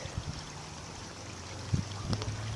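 After rain, runoff flows through a storm drain into a creek, a steady soft trickle and wash with a few faint splashes and knocks, no voices.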